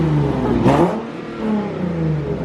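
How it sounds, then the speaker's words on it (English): Car fitted with a custom GTR exhaust revs hard once as it pulls up, a sharp rising roar that then settles into a rumbling idle nearby. "Oh, that's the GTR exhaust."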